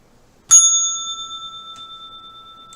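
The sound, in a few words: bell ringing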